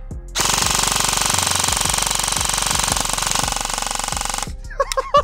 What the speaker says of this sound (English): I'm gonna just do let's do a full auto mag dump